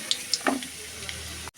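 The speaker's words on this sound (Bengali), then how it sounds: "মূলোগুলো কিন্তু লাল লাল করে ভাজা হয়ে গেল" Radish pieces fry in hot oil in a wok, a bright, close sizzle with a few sharp clinks of stirring before it cuts off abruptly.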